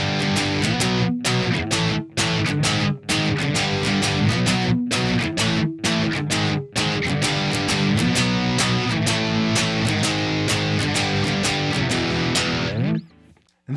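Distorted electric guitar plays the pre-chorus chord progression of a song. Loud, steady strummed chords run alone, with short rhythmic stops, and ring out at the end.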